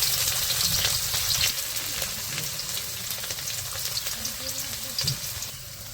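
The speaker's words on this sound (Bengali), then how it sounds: "পেঁয়াজের সাথে আলুগুলাও দিয়ে দিল ভাজার জন্য" Onions, green chilies and potatoes fry in hot oil for chickpea curry, sizzling and crackling steadily up close, with occasional stirring scrapes and a voice faintly underneath.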